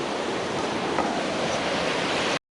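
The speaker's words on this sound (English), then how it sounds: "what you can see from Karuru Falls is also Gura Falls, which is Kenya's largest waterfall" Steady, loud roar of falling water at Karuru Falls in Kenya, a dense broadband rush that stays even for about two seconds and then cuts off abruptly.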